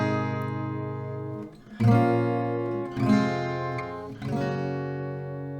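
An acoustic guitar strums the closing chords of a song: sustained ringing chords, each struck anew about once a second, close and fairly quiet with no voices.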